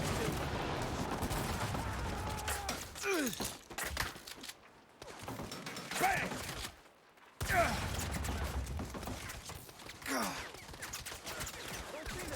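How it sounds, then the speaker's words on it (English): Enemy machine gunners in the Saints Row video game fire in sustained bursts from a distance, rattling in broken volleys separated by short silent gaps, with faint mechanical game sounds between. "Let's not be in range of those machine gunners up on the top floor then."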